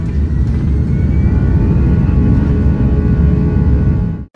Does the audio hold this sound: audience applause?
no